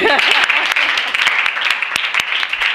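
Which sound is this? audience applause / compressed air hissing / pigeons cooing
audience applause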